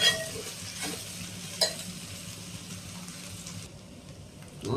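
Okra (ladies finger) fries in a pan with a quiet sizzle, broken by a few scraping stirs near the start and a louder knock at the end.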